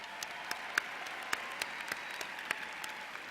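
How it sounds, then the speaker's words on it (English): Applause from a commencement audience for faculty members at a college graduation ceremony, a continuous crowd clapping with a few sharper nearby claps standing out over the steady roar. "Dear students, please give a round of applause to the faculty members who have helped you and for those who are here today."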